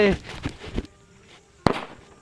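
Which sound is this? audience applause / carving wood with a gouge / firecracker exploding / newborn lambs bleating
firecracker exploding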